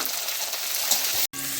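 Chopped tomato added to onions frying in a hot pan gives a steady, close sizzle that drops out for a moment near the end before resuming.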